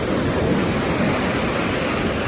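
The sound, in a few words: sea waves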